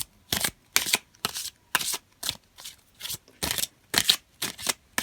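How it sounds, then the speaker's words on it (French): Tarot cards are shuffled in a rapid, even rhythm of about a dozen crisp riffling bursts, each separated by a brief pause, close and fairly loud with no talking. "on va prendre une carte de tarot, donc le tarot du funambule."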